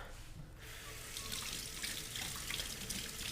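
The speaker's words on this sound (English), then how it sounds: "Let me get a quick rinse." Water runs from a tap into a sink for a quick rinse, a steady hissing splash that swells louder after a brief quieter start and continues alone without talk.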